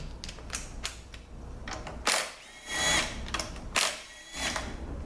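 A power tool removing bolts from an 8L90 transmission during a teardown, bursts of whirring and rattling with a few longer loud runs, close and alone with no talk.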